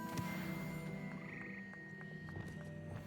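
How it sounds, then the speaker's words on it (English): A frog choir croaks in the Hogwarts Legacy video game, a steady, faint chorus of overlapping croaks and sustained tones with no talking. "Frog Choir"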